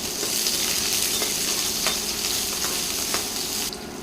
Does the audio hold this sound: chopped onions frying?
yes